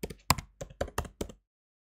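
Quick keystrokes on a computer keyboard, about seven close, crisp taps in a short burst that then stops into silence.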